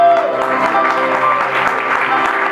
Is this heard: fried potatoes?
no